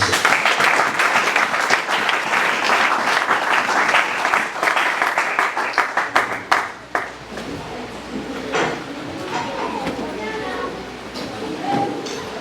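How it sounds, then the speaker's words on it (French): A congregation at a French-language church service bursts into loud, sustained clapping that thins into scattered claps after several seconds, with voices over it. "Acclame encore une fois le petit peu."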